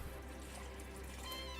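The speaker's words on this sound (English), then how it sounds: "Add your water." Water pours into a pot of Japanese curry stew with potatoes, a steady, soft splashing fill close by that stays even throughout.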